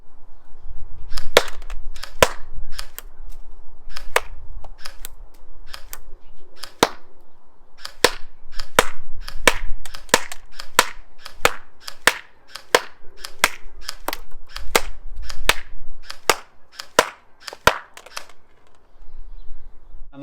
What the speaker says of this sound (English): Now I took it out for a shoot, had a fire down the garden with it.